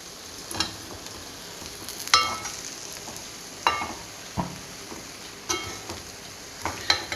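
Fried vatta fish is stirred into sizzling pickle masala in a pan: a continuous close hiss of frying, broken every second or two by sharp scraping stirs, with no voices.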